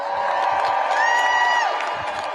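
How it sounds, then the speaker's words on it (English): A crowd at an outdoor protest rally in Washington, DC cheers and whoops for USAID workers, a loud, sustained wash of voices with shouts rising above it for a couple of seconds. "Let's cheer for the men and women of USAID."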